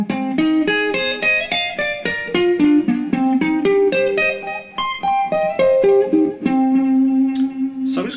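Electric guitar runs fast arpeggio lines in sweep picking, bright and clear, notes cascading up and down before settling on a long sustained final note, loud and alone.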